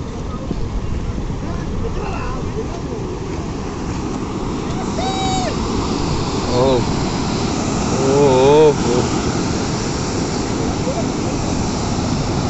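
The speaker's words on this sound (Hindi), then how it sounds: "देखो ब्रो कितना फोर्स में पानी जा रहा है।" Floodwater in Hyderabad rushes with great force, a steady loud broadband roar throughout, with voices of onlookers talking over it and brief whistle-like tones in the middle.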